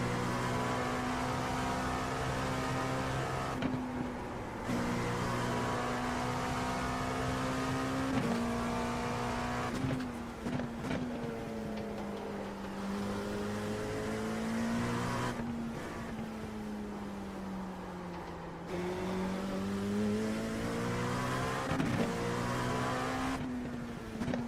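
NASCAR race cars at Nashville Superspeedway: a loud, continuous engine drone that rises and falls in pitch as cars pass, with no talking.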